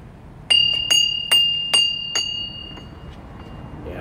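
A bright doorbell of a tiny home chimes several times in quick succession, each strike ringing and fading, then the tone lingers and dies away.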